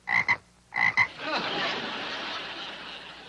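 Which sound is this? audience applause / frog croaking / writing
frog croaking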